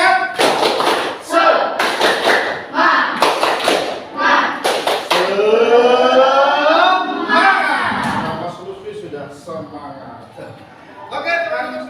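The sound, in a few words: group doing rhythmic 'tepuk semangat' spirit clapping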